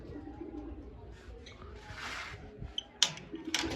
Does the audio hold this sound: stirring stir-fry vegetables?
no